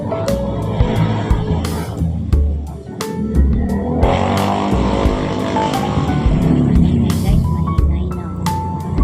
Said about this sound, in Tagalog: Maingay ang mga sasakyan.